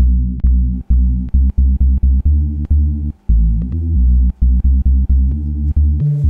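A deep synth bass line from a speed garage track plays short repeated notes in a steady rhythm with brief gaps, loud, buzzy and isolated.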